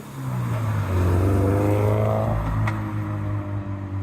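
A Toyota GT86 revs hard at a car meet, its engine note climbing through a loud sustained rev before easing back, close by with no talk over it.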